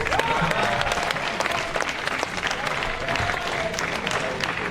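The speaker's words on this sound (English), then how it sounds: "Give them a big round of applause." An audience at a live stage show claps loudly in a broad, continuous burst of applause, with crowd noise and a few scattered voices mixed in.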